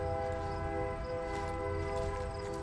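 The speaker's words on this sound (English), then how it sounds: "Of course, a railroad near campgrounds." A train on a railroad beside a campground in Minnesota, with a sustained, steady horn-like tone over a low rumble that holds throughout, moderately loud and without talk.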